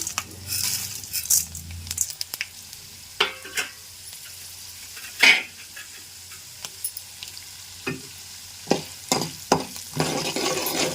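Chana dal and urad dal hit hot oil in a pan for lemon-style pulihora, giving a bright sizzle broken by repeated spatula scrapes, stirring knocks and metallic clinks against the pan, close and loud.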